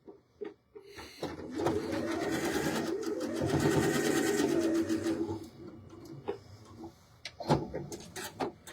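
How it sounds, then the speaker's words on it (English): A sewing machine runs a quarter-inch patchwork quilt seam in one steady, loud burst of rapid stitching lasting several seconds, followed by quieter handling clicks and taps. "I'm going to stitch 1/4 inch down this side."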